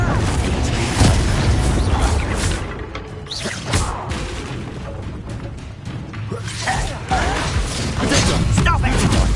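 Loud blasts and crashing booms from spell combat in Hogwarts Legacy, explosive hits with whooshes and thuds layered over dense game action, with a voice speaking among them.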